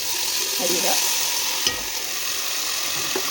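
Spoon stirring in a well-heated pot while cooking egg biryani, a steady sizzle and scraping that runs continuously, close and fairly loud with no talk.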